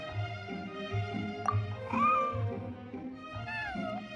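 A cat named Snowball, white and fluffy, meows several times in the game Genshin Impact, short rising and falling calls spaced over a steady soft musical backdrop.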